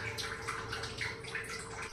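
Kairi panna, a raw mango drink, being poured into two glass bottles, making a continuous trickling and gurgling with small splashy pulses, close and fairly quiet.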